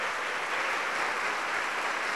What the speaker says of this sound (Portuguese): vamos dar a melhor salva de palmas para esta palavra